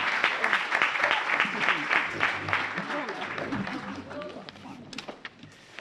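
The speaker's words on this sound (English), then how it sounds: "Let's give this panel a round of applause." Applause from a public-meeting audience for a panel, a moderate round of clapping in a room that fades over several seconds, with some voices underneath.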